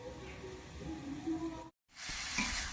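Pui shak (Malabar spinach) fruits fry in a pan with a low, even sizzle and faint crackling. After a short break it comes back as a brighter, louder hiss.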